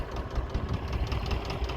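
An Ursus C330M tractor without a cab runs in a field pulling a cultivator, its engine a steady, close, low chugging drone with rhythmic knocking pulses throughout.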